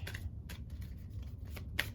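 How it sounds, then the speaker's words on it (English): Tarot cards are shuffled close by in a series of soft, irregular riffling snaps and flicks, with a brief sharper click near the end. "I'm just shuffling."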